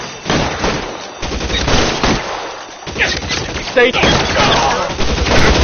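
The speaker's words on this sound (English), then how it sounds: "I'll lay down some suppression fire." Sustained suppressing gunfire in L.A. Noire, loud overlapping shots and automatic bursts in a continuous fusillade, with a brief spoken word mixed in.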